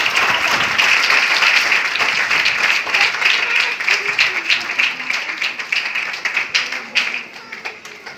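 A church audience applauds loudly, with dense sustained clapping that fills most of the stretch before thinning into scattered claps toward the end; a voice is faintly audible beneath it.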